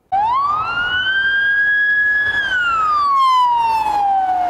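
An ambulance siren in Prahova, Romania, wails loud and close in a single long sweep that rises, holds high and slowly falls, with no voices over it.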